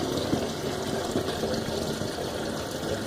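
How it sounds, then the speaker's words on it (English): Lukewarm tap water gushing steadily from a jug, a dense, continuous wash of liquid noise heard close up for a few seconds, with no voices. "I take a jug, I fill it with just the tap water, the lukewarm"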